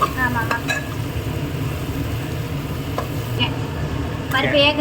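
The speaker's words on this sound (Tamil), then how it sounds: "நல்லா கிளறணும்" Sambar rice being stirred in a pot, a steady thick scraping and bubbling under a continuous cooking background with some faint voice-like tones.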